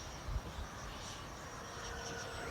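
An FMS Avanti model jet flies on an extremely windy day, its engine a steady airy whoosh partly buried in heavy wind rumble, with a brief gusty thump near the start.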